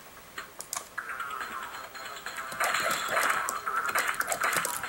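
Computer keyboard keys, mainly the spacebar, tapped while playing a Miniclip browser game, with scattered light clicks that turn into a busier run of quick presses over faint game sounds.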